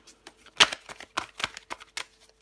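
Tarot cards slapped and shuffled on a table in a series of crisp, uneven snaps and flicks, close up and fairly quiet, with no talking.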